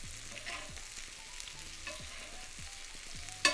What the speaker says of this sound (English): basting the scallops with the butter